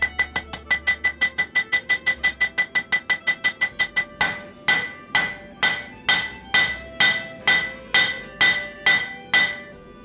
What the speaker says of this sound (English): I use the peen section of my hammer to draw out the lugs or ears of the axe